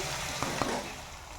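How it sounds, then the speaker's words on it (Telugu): Ginger garlic paste frying in oil in a pan, a steady close sizzle with a couple of brief stirring clicks near the start. "పచ్చివాసన పోయేంత వరకు ఐదు నిమిషాలు వేస్తాను నూనెలోనే అల్లం వెల్లుల్లి పేస్ట్"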